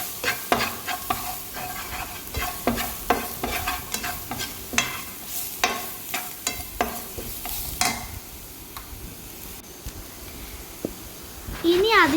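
Chilli and turmeric powder fry in oil with curry leaves while being stirred vigorously, rhythmic scraping strokes over a bubbling sizzle, easing off toward the end where a voice briefly speaks.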